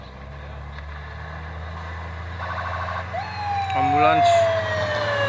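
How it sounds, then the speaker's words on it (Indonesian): Ambulance siren passing on a road near a reversing Volvo trailer truck, a wailing tone rising and sweeping over heavy diesel engine rumble, growing louder toward the end. "Ambulans."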